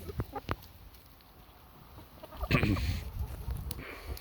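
Molting backyard chickens cluck softly while being herded into their coop on an evening outdoors, short scattered calls and rustling, faint and close.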